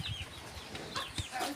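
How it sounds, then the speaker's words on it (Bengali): Hens and chicks around a cattle shed cluck and cheep in short, high calls over a low background murmur, fairly near. "আর এই যে মুরগির বাচ্চা, মুরগি সব করতেছে।"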